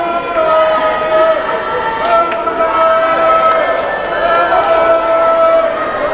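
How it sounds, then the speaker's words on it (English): A basketball crowd stands in a college gym, a busy murmur of chatter and cheering with sharp squeaks and thuds from the court, and an announcer speaks over it. "Lambton crowd on their feet, and what an atmosphere here in the Den."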